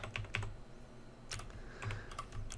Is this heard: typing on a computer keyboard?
yes